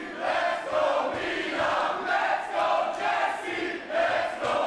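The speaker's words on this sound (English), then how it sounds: "Crowd here, so raucous, so loud in the German capital" Raucous crowd at a GWF professional wrestling show in Berlin, roaring and chanting in swelling waves, loud and continuous.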